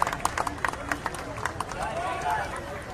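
Audience at a Govinda human-pyramid event claps for a women's troupe, a burst of sharp claps at the start that thins into crowd noise and a voice talking.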